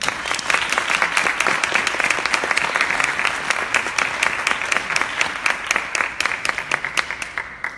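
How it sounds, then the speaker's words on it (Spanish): An audience at a panel event claps in a steady round of applause, with individual hand claps sharply distinct and rhythmic, close and lively, thinning slightly near the end. "El aplauso para ustedes."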